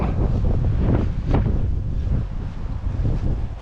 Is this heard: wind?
yes